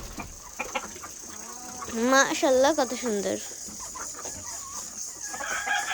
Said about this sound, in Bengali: সর্বপ্রথম ঢুকছে এই যে সাদা মোরগটা তারপর অন্য মুরগিগুলো ঢুকেছে